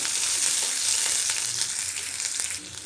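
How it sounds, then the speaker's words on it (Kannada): Chopped onions frying with spluttering mustard seeds in a pan for bendekai gojju, a dense close sizzle with small pops and stirring, fading slightly at the end. "ಒಂದು 2 ಮಿನಿಟ್ಸು ಇದನ್ನ ಈ ಥರ ಫ್ರೈ ಮಾಡ್ಕೊಳ್ಳೋಣ."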